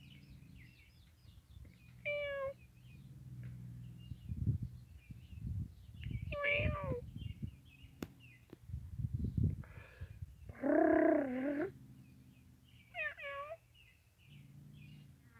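Small kitten meows close by, several short high mewing calls spaced apart, heard alongside a person talking softly with low handling noise in between.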